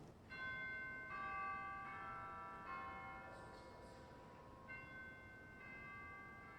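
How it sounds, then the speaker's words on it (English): Chimes stop of a 1931 M.P. Möller pipe organ in a Lutheran church rings out in a series of clear, sustained bell tones, struck one after another and overlapping as they fade, with no talk. "we also have a set of chimes I notice in the grate division there"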